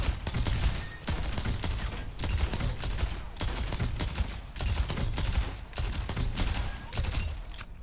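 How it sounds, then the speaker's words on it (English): Junker Queen's gun in the Overwatch video game firing at its full rate, a loud, close run of sharp blasts repeating at a steady pace of roughly one per second, with no speech. "This is just his optimal fire rate."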